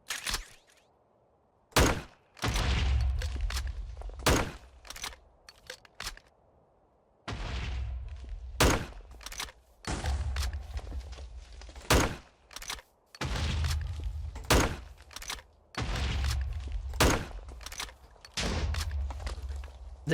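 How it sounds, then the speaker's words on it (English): An M203 underbarrel grenade launcher in a shooter game mod fires repeatedly, each sharp thump followed by a booming impact and rumble, with a spaced, irregular rhythm of loud shots and no talk. "we added the M203 underbarrel grenade launcher"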